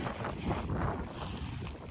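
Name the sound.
wind noise on microphone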